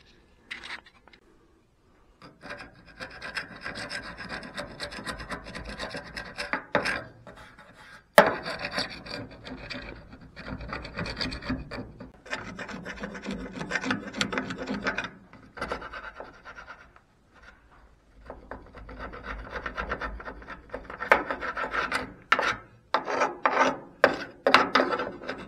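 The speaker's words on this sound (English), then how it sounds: "I'm taking off what was left of the old weather stripping, and there's a little bit of glue residue there." Old door weatherstrip and glue residue being scraped off a 1968 Ford F250, a close, irregular rasping and rubbing that comes in uneven bursts with short pauses, ending in quicker, choppier strokes.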